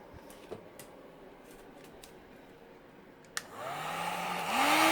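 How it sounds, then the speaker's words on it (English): Heat gun used to soften a bent plastic corner on a Ghostbusters Proton Pack tool box; after a few quiet clicks it switches on with a rising whine, then a steady close blowing roar. "I'm going to use a heat gun to heat the corner"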